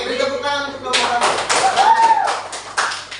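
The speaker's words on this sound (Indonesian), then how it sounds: "beri tepuk tangan untuk kelompok 1" A classroom group claps for the first presenting group, a dense burst of hand clapping that starts abruptly and continues close by, with talking over it.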